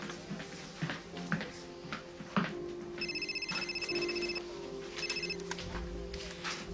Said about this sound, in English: Detective Snyder's phone.